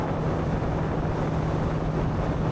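A Sea Ray 250 SDX outboard boat runs at speed above 40 knots on open water. Its engine makes a steady, loud roar, mixed with constant wind rush and spray noise, and no one speaks.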